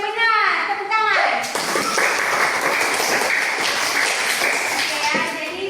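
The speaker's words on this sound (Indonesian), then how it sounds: "Tepuk tangan." A class of schoolchildren clapping together after a lesson on plant functions: a short burst of children's voices, then dense, sustained group applause filling the room at steady loudness.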